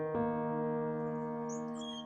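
A white-crowned sparrow sings in San Francisco, giving a short, clear, sustained note followed by quick high chirps. The bird is faint and fairly distant, with no talking.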